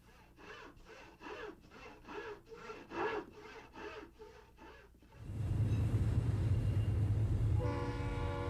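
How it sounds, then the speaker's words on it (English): A Lionel model train accessory with Amish men sawing and chopping wood gives off a steady, rhythmic rasping of about ten regular strokes. A louder, broad mechanical rumble then takes over and drowns it out. "They saw and chop as untiringly as lumberjacks."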